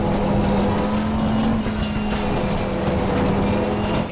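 Race car engine in a sim racing game, loud and continuous, with a steady tone that shifts as the car takes a corner and the revs move.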